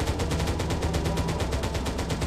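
Rapid automatic gunfire from a game weapon, a fast even stream of close, loud shots rattling continuously without pause.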